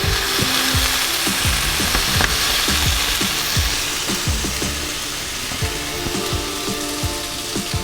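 A birria taco sizzles and fries steadily in a pan after being flipped and pressed, with a dense crackling hiss and repeated soft scraping or tapping against the pan, close and loud, with no talking.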